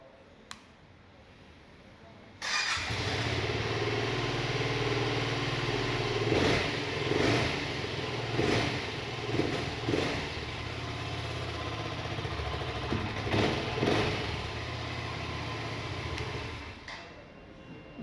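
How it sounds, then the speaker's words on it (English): A BSA Goldstar 650 single-cylinder motorcycle fires up abruptly and settles into a thumping idle, broken by several short throttle blips that rise and fall before it cuts off near the end. "You do feel the single cylinder running."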